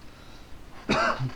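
A single sharp cough bursts out after a moment of quiet room noise, followed by a softer breathy tail.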